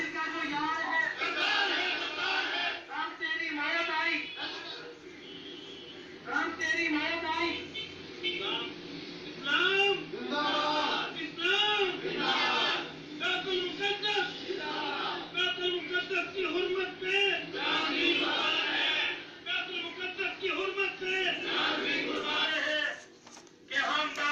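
A protest crowd gathers outside a press club and chants slogans in loud, rhythmic group shouts that repeat and surge steadily, with little pause between them.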